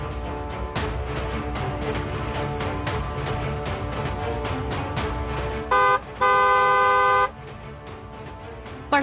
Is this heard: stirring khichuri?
no